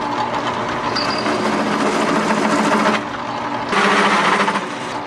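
Power drill cutting holes through the body of an old school bus for electric wiper motors, a steady close-up grinding whine with brief pauses and a jump in pitch partway through, no talk.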